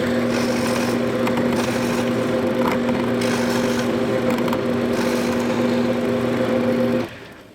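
A power saw cuts through a sheet of plywood along its center line, a loud, steady whining buzz held for about seven seconds before the blade stops and winds down.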